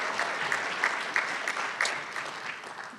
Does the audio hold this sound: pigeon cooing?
no